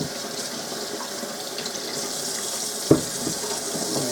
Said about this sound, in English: Cleaning your vegetables.